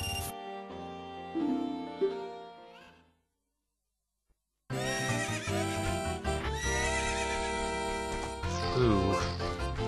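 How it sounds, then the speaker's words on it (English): Horse whinny from The Legend of Zelda: Ocarina of Time with rising and falling pitch, a brief silence, then another long neigh with music-like tones in the background. "Ooh, looks like a good horse."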